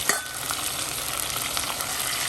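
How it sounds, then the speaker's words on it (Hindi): Chicken pieces for a Tibetan curry fry in a pan, making a dense continuous sizzle up close with a few faint clinks and no talking. "अब ये देखो फ्राई हो रहा है ना"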